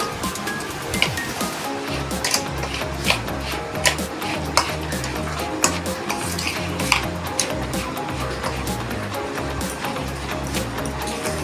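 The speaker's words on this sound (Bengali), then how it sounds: "এইটাকে খুব ভালো করে এবারে মিশিয়ে নিচ্ছি, যাতে টক দইয়ের সঙ্গে সুজিটা খুব ভালো করে মিশে" A spoon stirs semolina into sour yogurt in a bowl for dhokla, a close, continuous wet churning with regular scraping strokes and occasional clinks against the rim, with no speech.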